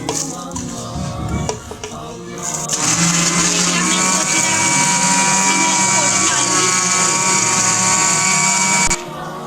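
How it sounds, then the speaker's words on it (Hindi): A kitchen blender grinds brown sugar and bread into powder, starting with some clatter before the motor rises into a loud, steady, high whine that runs for several seconds and then cuts off. "मैं इसको ब्लेंडर में अच्छी तरह पीस लेती हूँ, पाउडर बना लेती हूँ"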